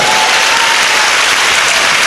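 An audience claps loudly and continuously, a dense and steady wash of applause with no break and no speech.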